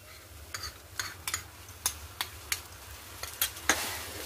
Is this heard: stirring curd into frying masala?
yes